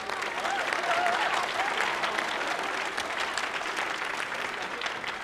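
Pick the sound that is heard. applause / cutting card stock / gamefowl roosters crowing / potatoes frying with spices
applause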